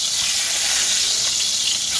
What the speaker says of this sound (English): I'm hearing it sizzle, so I feel like I'm doing a good job.